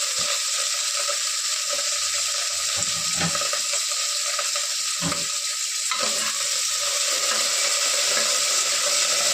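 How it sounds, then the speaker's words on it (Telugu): Garlic sizzles steadily in hot oil in a pan, a dense continuous frying hiss with occasional stirring scrapes, close and loud with no talking. "వెల్లుల్లిపాయలు వేగుతున్నాయి"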